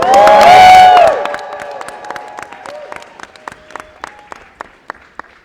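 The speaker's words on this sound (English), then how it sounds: "Give them a big round of applause." After a short loud cheer or whoop at a press conference where a millionaires tax is signed, the crowd's applause thins into sparse, scattered individual claps fading out over several seconds.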